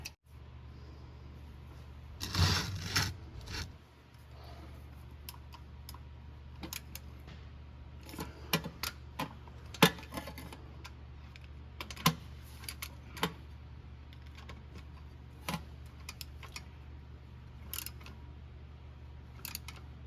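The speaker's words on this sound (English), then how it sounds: "Okay, and then I'll tighten that down with the wrench here at the end." A wrench tightens a bolt on the starter of a Chevy truck, giving scattered sharp metallic clicks and taps over a steady low hum, fairly close but not loud.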